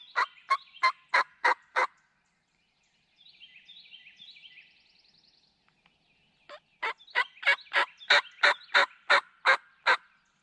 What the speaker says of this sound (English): we heard some birds gobbling